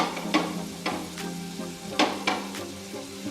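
Chickpeas with grated coconut fry in a pan with a constant moderate sizzle, broken by several sharp scraping and clinking strokes of a stirring spoon against the metal, with no voices.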